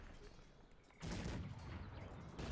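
Cannon fire in Cossacks 3: after a quiet second, a sudden loud blast bursts in and rolls on as a dense, rumbling barrage that stays heavy to the end.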